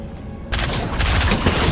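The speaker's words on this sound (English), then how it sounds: "Oh, you just got rocketed at." Rocket explosion in a video game, a sudden loud broadband blast that hits after a brief quieter moment and keeps rumbling in a crackling burst for about a second.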